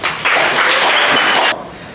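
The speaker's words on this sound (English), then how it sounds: "Let's give them a round of applause." An audience at a security summit ideathon bursts into applause, dense clapping rising quickly, holding loud for about a second and a half, then cutting off abruptly.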